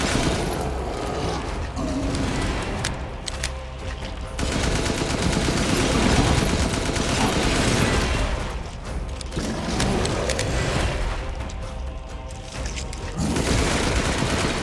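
Sustained bursts of automatic gunfire in the VR horror game Resident Evil Village, loud rapid rattling shots with brief pauses between volleys, mixed with mechanical clatter and game sound effects.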